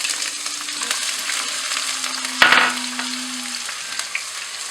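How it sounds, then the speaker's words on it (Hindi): Onions sizzle and fry in hot oil in a kadhai, a steady crackling hiss with a sharp clatter of stirring in the middle and a faint low hum running underneath. "अब मैं इसमें डालूँगी प्याज"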